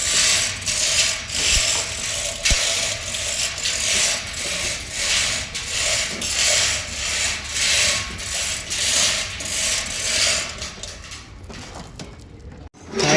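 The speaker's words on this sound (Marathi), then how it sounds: "बघा मशीन वरती आलेली आहे" Machine slowly being hoisted with a ratchet mechanism, repeated rhythmic clicking and cranking strokes in regular cycles, close and fairly loud, ending with a thud.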